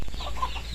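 Soft clucking from chickens, a brief low burble of fowl sounds close by with no talking.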